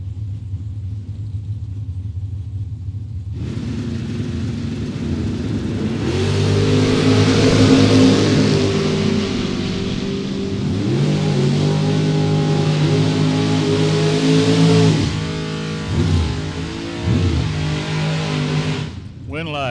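Drag racing cars, including a Mustang, launch down the strip and roar loudly for several seconds while a track announcer talks over the engines.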